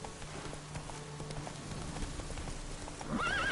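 Roach, a horse in The Witcher 3, clip-clops along at a steady pace with hoofbeats moderately close, and a whinny rises near the end over faint background ambience.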